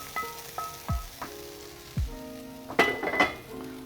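Hot pan of meat and fat tipped into a strainer set in a bowl, with a sizzle, scraping and several metallic clinks and knocks of pan against metal, close and moderately loud.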